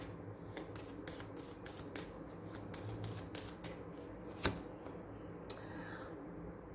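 Tarot cards being shuffled close up, a quick stream of soft riffling flutters and light slaps, fairly quiet with one sharper tap near the end, no talking.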